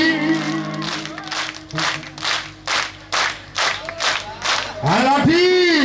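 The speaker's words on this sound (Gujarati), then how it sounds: "આજ લાઠીની બાજુમાં તાળીનો અવાજ સાંભળવો છે" A village crowd claps together in a steady rhythmic beat for a Rahde folk dance, about nine loud unison claps, with singing voices around them and a sustained sung note at the end.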